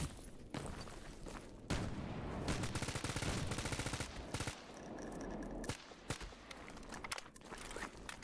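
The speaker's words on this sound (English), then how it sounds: "I don't want to deal with a guy with a shotgun." Gunfire from the shooter game STALKER GAMMA, with a dense run of loud shots and bursts, some sustained and rattling, then scattered scrapes and movement, and no talk.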